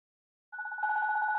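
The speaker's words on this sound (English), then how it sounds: "And then I'm going to get the ringtone" A Radioddity TomoLink PoC radio starts ringing abruptly with a steady two-tone electronic ringtone, close and clear, sustained after a short pause of silence, with no talking.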